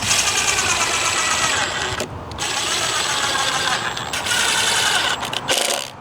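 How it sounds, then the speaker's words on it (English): A power driver runs almost continuously, sinking small finishing screws into the triangular return of a composite deck stair. It whirs loud and close, with short pauses as each screw seats. "I'm gonna put some little finishing screws into the little triangle."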